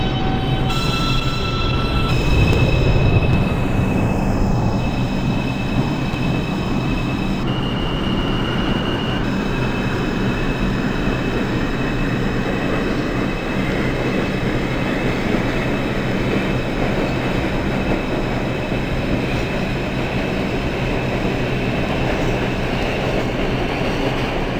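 A Manhattan-bound 2 train on the NYC subway runs steadily in the openbve train simulator, a continuous loud rolling rumble with tonal whine and faint clicking carried throughout, alone without talk.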